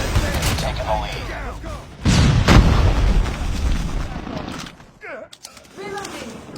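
Shotgun blasts and heavy gunfire in the mobile shooter game Call of Duty Mobile, loud booming shots mixed with battle noise while in-game voices call out.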